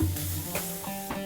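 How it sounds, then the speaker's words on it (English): Pearl onions are tipped into a pan of sizzling lamb, giving a steady close frying hiss with soft stirring and clatter, no voices. "I'm going to add some beautiful pearl onions"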